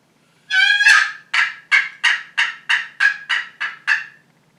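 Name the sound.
turkey call imitating a hen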